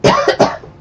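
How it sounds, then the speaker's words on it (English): A person's cough, close and loud: a short burst of three rapid hacks, no other sound. "wow, it's so cool it made me cough"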